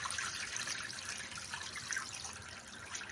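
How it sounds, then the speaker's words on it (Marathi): Water being poured off freshly washed lentils into a sink, a soft steady splashing trickle throughout, faint and alone without talk. "आता पाणी पण काढून घेतो"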